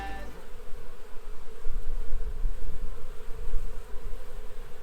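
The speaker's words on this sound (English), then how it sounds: "appears to be quite a few bees hanging around camp" Bees buzz around a fishing camp north of Sandy Cape, a steady droning hum with individual insects swelling louder as they pass close, no talk.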